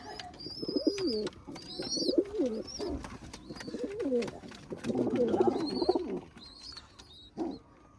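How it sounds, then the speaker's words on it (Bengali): Naktana pigeons, a prized Khulna breed including a male, cooing in repeated throaty rolling phrases close by, with bright chirps and wingy rustles from other birds around, no talk. "এই হচ্ছে নাট্টানা কবুতর হচ্ছে নাট্টানা মূল মদ্দা"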